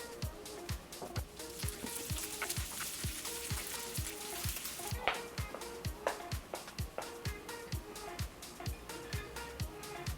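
Rice fries with a tablespoon of butter in a pan, a quiet sizzle under a steady, regular ticking rhythm, with light stirring.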